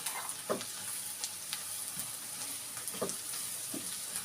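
Poppy seed chutney sizzles and fries quietly in a pan with salt, turmeric, chili and cumin, a soft continuous hiss broken by faint stirring scrapes.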